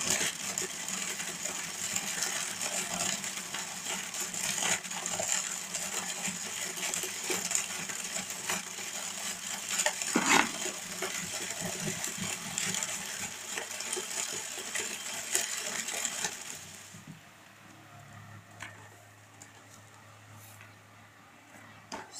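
A homemade straw cutter built from a Soviet Malyutka washing machine runs with a steady whirring, rattling clatter for most of the time, then cuts out, leaving a quiet hum.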